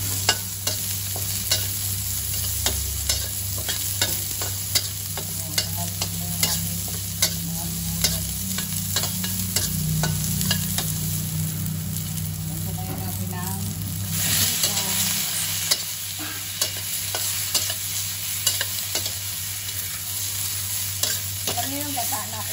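Garlic and onion sauté in a pan for a cooking dish of jackfruit with shrimp, giving a continuous close sizzle with frequent clicking and scraping stirs throughout. A brief louder hiss comes partway through.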